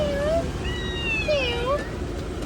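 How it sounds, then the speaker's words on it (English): A small cat in Phuket, Thailand, meows twice, with short rising-falling cries close by over steady outdoor background noise. "I saw this little cute kitty, and I had to give it a little pet because it has the cutest meow"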